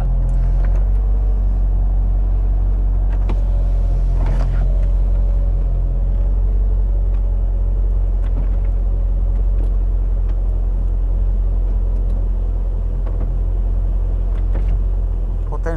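A supercharged 5.5-litre V8 in a Mercedes SL55 AMG R230 runs steadily, giving a deep, continuous low rumble that stays even and fairly loud from start to finish with no talking over it.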